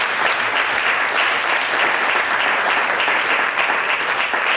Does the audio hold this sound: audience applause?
yes